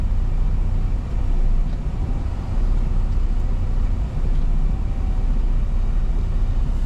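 A truck sits in drive and strains against its brakes. A loud, constant low rumble of engine and drivetrain holds steady, close up, with slight swells in level and no talk.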